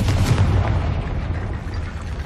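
A Confringo blast curse explodes in Hogwarts Legacy as a single heavy boom, its deep rumble loud at the start and then slowly dying away.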